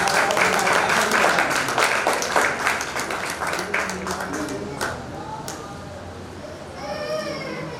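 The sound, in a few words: audience applause at a poetry gathering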